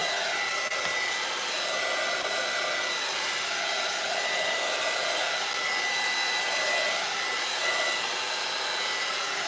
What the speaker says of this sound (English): Okay, that's just a heat gun.